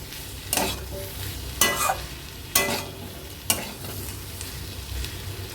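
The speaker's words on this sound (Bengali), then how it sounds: "এবার এই আদা রসুনটাকে না 1 মিনিটের মতো নেড়ে চেড়ে কাঁচা গন্ধটা গেলে" Ginger-garlic paste stirred and frying in a pan, a soft steady sizzle broken by four distinct scraping stirs spaced about a second apart, close and moderately loud.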